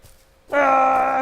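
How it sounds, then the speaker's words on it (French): A pig in the survival video game Rust lets out a loud, sustained groaning squeal lasting under a second, starting abruptly after a brief quiet moment. "Un cochon!"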